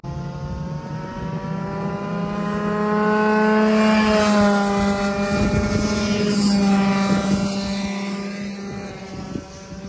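Racing go-karts on a karting track roar past in a loud, continuous engine drone that swells toward the middle and stays strong, with a steady buzzing pitch and no talk.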